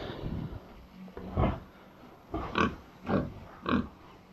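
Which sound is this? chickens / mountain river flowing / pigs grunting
pigs grunting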